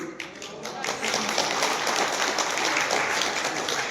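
An audience at a foundation event claps for several seconds, a dense, even patter of applause that sets in sharply and holds steady, with voices faintly underneath.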